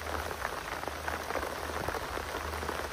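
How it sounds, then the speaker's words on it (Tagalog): Steady rain patters on surfaces along a horse trail, a dense even hiss with scattered drops, moderately loud and continuous with no voices. "medyo lumakas na ang ulan"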